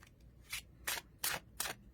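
Four quick, crisp riffles of thin Words & Pictures tarot cards, each a short bright burst, spaced about a third of a second apart in a quiet room.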